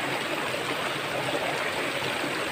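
A creek in the countryside flows in a constant, broad rushing wash of water, steady and fairly loud throughout, with no voices over it.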